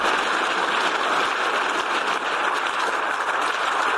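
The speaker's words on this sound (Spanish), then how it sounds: "Esta ovación fue el uniforme y sostenido gesto del Parlamento Europeo durante la intervención del presidente Volodymyr Zelensky" Sustained ovation in the European Parliament for President Volodymyr Zelensky, a dense, steady wash of many hands clapping at constant loudness throughout, with no voices standing out.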